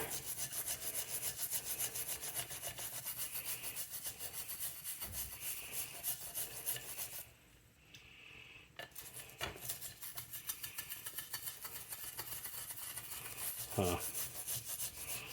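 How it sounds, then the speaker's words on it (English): A small stainless steel brush scrubs overheating varnish off a seized 1979 Vespa P200E engine part, making quiet, rapid, rhythmic scratching strokes up close, with a short pause partway through. "Little stainless steel brush, get some of that overheating varnish off of here."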